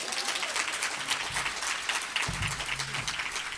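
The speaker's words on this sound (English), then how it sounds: "Please give them a round of applause." An audience at a child welfare and juvenile court judges' discussion applauds two judge panelists, a full round of clapping at steady strength, with a low hum or rumble entering partway through.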